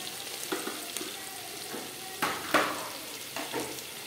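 Chicken biryani masala being sautéed in a pan gives a steady sizzle, broken by repeated scraping stirs and a few louder clatters of a spoon against the pan.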